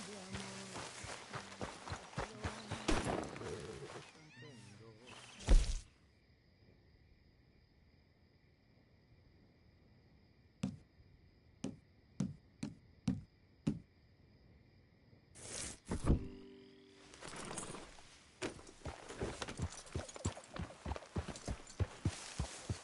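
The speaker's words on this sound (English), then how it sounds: "Hey, get that horse out of here." In Red Dead Redemption II, horse hooves clip-clop in quick runs at the start and end, with a few isolated hoof strikes in a quieter middle stretch under a steady insect chirr; speech is faintly present.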